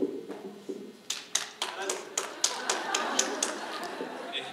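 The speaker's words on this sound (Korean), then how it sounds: "박수 쳐드렸고요" A small audience at a pregnancy and parenting class claps in a series of distinct, fairly even claps that settle into a light patter, with faint chatter underneath.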